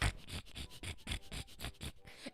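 A voice imitates a big cat sniffing loudly with its mouth wide open, a string of about ten rapid, breathy open-mouthed sniffs in a steady rhythm, close and fairly loud.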